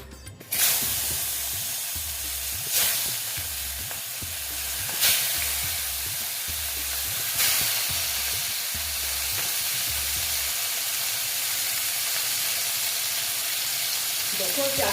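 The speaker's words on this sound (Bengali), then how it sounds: "তেল দিয়ে দিলাম দিয়ে মাছটা ভেজে নেব" Boal fish sizzling as it fries in hot oil in a pan, giving a steady close crackle with a few louder bursts of spitting oil, and no talking.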